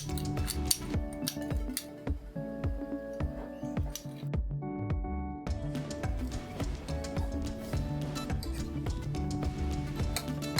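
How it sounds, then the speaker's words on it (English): Thai holy basil stir-fry with quail eggs being tossed in a pan, with dense metallic scraping and clinking of a utensil against the pan, steady and close throughout with a short lull midway. "Keep stir frying until the ingredients mix well."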